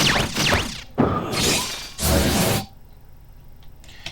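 A string of short game-style effects: a glassy shattering burst, then two whooshing crash-like bursts, followed by quiet with a faint click near the end.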